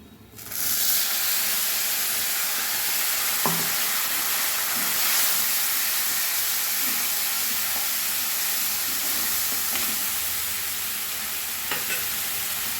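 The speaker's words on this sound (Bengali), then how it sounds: "এবার আমি বাটা মশলাটা দিয়ে দেব।" Spice paste frying in hot oil in a pan for a vegetarian moong dal kalia, giving a steady, loud broadband sizzle throughout with a few brief stirring scrapes and clinks.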